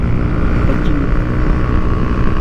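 A stock Yamaha Mio i 125 scooter engine runs flat out at top speed with a rider and passenger aboard, a loud, steady drone mixed with heavy wind rush and no pauses.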